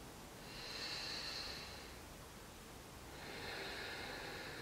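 Two slow, breathy exhales during a gentle yoga flow, soft and close, each a hissing rush of air lasting over a second with a short pause between.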